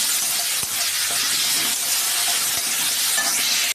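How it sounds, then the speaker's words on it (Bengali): Garlic paste and green chili sizzle steadily in a hot pan, a dense continuous frying hiss with occasional faint spoon scrapes, loud and close throughout. "এবার এই কাঁচা গন্ধ যতক্ষণ না গেছে ততক্ষণ আমি এটা কষে নিই"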